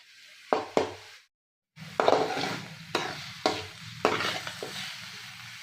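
A spoon stirring chopped tomatoes softening in a pan, repeated scraping strokes over a soft steady sizzle, briefly pausing before the rhythmic stirring resumes.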